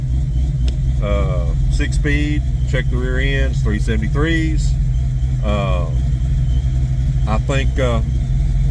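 A 1995 Ford Mustang GT with a six-speed idles at about 1,000 rpm, giving a steady, even low rumble throughout while someone talks over it.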